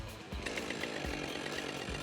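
A chainsaw roars into life during a tree-cutting demonstration by an arborist. Its engine drones loud and close, with rhythmic surges in pitch.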